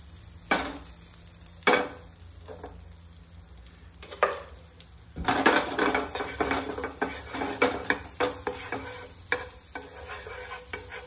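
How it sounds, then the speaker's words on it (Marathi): Paneer sautéing in a teaspoon each of oil and butter, with a soft sizzle under repeated scraping and clinking of a spoon against the pan, strokes coming faster and busier in the second half. "आफ्टर दॅट पनीर टाकून आता आपण पनीर सॉते करतोय"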